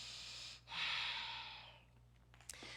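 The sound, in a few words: breathing during a yoga core workout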